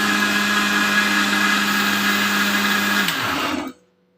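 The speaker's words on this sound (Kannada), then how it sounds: "ಸಕ್ಕರೆ, ಹಾಲು, ಫೈನ್ ಪೇಸ್ಟ್ ಆಗೋವರೆಗೂ ರುಬ್ಕೊಳ್ಳಿ." A kitchen mixer grinder whirs loudly and steadily, blending avocado with cocoa powder, sugar and milk into a paste, then spins down and stops near the end.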